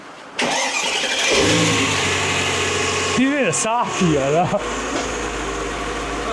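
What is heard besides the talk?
car engine starting and running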